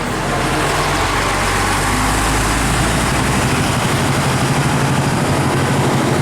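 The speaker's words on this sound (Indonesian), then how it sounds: "Mesinnya Mercy OH 1626." A bus with a Mercedes-Benz OH 1626 engine rumbles steadily at a bus terminal. The deep engine drone is close and loud, holds constant with a faint rise in intensity, and no one talks.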